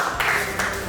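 Brief burst of classroom applause for the first student group, a short patter of clapping hands lasting about a second, close and fairly loud.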